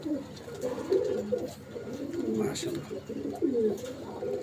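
Imported Pakistani Tedy pigeons coo in a loft, several low rolling coos overlapping close up and almost continuous, with someone talking softly over them.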